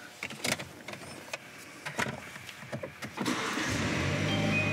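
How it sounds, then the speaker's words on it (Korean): A BMW G30 530i starts up after some faint clicks and interior rustling, its engine catching and settling into a steady, fairly quiet idle for the last second and a half. "시동 한번 걸어보겠습니다."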